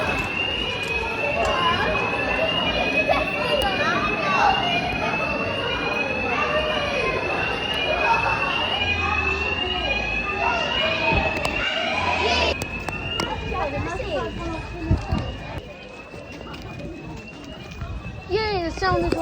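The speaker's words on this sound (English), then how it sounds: "Fire alarm, yay!" A fire alarm sounds at a holiday resort on the Jurassic Coast, a loud, steady repeating electronic tone running continuously throughout, with voices and movement underneath.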